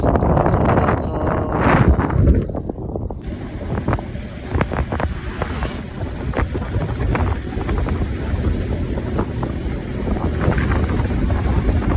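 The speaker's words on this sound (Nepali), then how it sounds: "हावा त यहीँबाट यस्तो छ।" Strong mountain wind in Mustang buffets the microphone with a steady, roaring rush, gusting loudly throughout as people speak briefly beneath it.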